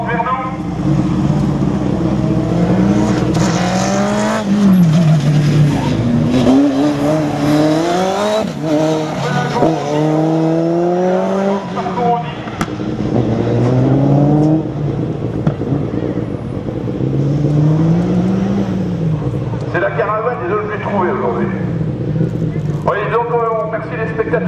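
Rally cars running a slalom course at Le Neubourg, engines revving, rising and falling in pitch as they accelerate and brake between gates and approach the spectators, with a commentator's voice over the public address throughout.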